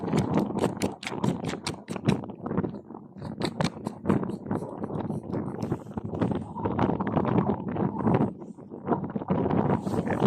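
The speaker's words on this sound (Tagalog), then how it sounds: "Sobrang lakas bro ng hangin mga kabayan" Strong wind buffets the microphone in heavy, gusting roars, loud and nearly continuous throughout, outdoors along an expressway construction route in the Philippines.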